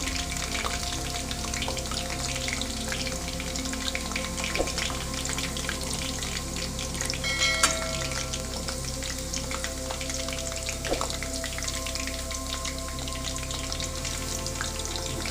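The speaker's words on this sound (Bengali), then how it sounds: "এবার একে একে আলুর এই যে চিপসগুলো আমি দিয়ে দিচ্ছি এর মধ্যে" Potato chips fry in hot white oil in a wok, giving a dense, even sizzle with light crackles that carries on steadily without any talk.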